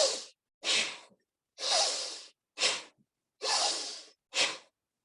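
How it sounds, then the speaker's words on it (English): Six forceful nasal breaths alternate inhale and exhale in a steady rhythm, each a loud, close, rushing burst of air through the nose separated by brief silences, with no talking. "Forceful inhalation and forceful exhalation."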